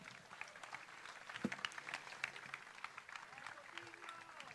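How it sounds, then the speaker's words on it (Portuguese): Applause from a concert crowd in Cape Verde honours the local musicians, a faint, spread-out patter of many hands under a murmur of voices. "Um forte aplauso aos nossos artistas."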